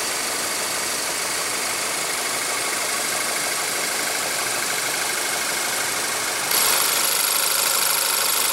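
A 2015 Volkswagen CC with a 2.0-liter turbocharged inline four-cylinder idles steadily after start-up, giving a constant close engine hum with a slight shift in tone near the end and no talking.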